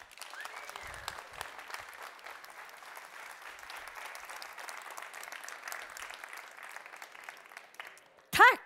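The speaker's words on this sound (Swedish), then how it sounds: "Ni klappar era händer, ni stampar era fötter." Indoor audience at an industrial trade fair gives sustained, even applause with a few low thumps of stamping feet early on, ending with a loud burst close to the mic.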